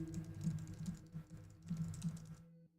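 Keys clatter in quick, uneven bursts on a computer keyboard while someone types into a mystery game, the clicking pausing briefly midway and stopping before the end.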